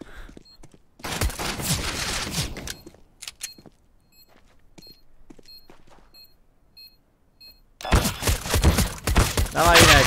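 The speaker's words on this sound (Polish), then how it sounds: "Wydałem wszystkie strzały i nie trafiłem nawet raz typa" Gunfire in the video game CS:GO rings out in two dense bursts of rapid shots, one early and one near the end, with quieter beeps and game sounds between them.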